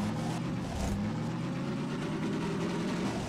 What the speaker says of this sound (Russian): что-то мне не нравится звук машины, как он булькает